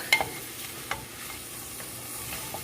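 Butternut squash frying in oil in a pan for a vegan pumpkin chickpea curry, with a steady faint sizzle and a few light scrapes and clicks of stirring.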